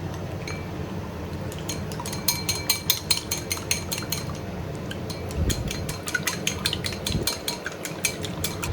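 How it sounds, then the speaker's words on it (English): Eggs with salt whisked briskly in a bowl, with a rapid, even run of utensil clinks against the side that speeds up and keeps going over a low background hum. "Sprinkle a little salt into the eggs and whisk them."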